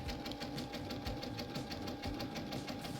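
A sewing machine stitching a zigzag along a quilt-as-you-go border, running as a steady, fast, even mechanical hum and clatter throughout with no talking.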